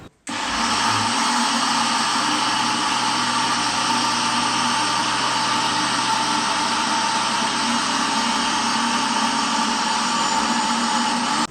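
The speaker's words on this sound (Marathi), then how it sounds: "इथे मी हे जे बॅटर आहे ते छान वाटून घेतलंय." A kitchen wet grinder runs steadily, finely grinding dosa batter: a loud, continuous motor whir with a dense churning hiss that holds unbroken for over ten seconds after a brief start.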